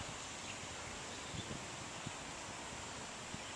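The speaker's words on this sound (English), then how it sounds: "See how it's getting windy?" Outdoor wind on a night with the moon visible, a steady broadband rush with faint rustling of leaves throughout and a few soft knocks, no voices.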